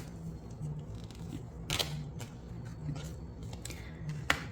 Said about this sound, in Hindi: कार्ड निकाल लेते हैं।